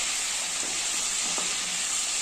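Eggplants frying in oil in a home kitchen, giving a steady bright sizzle with a few faint utensil scrapes and a small clink near the end, no voices.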